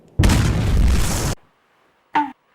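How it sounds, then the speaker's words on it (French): A huge explosion in a parody adventure video lands as a loud, wide burst of noise lasting about a second, then cuts off. A brief, sharp, higher-pitched sound follows after a pause. "j'ai vu une immense explosion."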